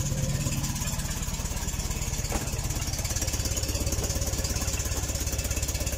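A small Polish Fiat 126p engine idles steadily with an even, rapid chugging pulse, close up and constant throughout, with no voices.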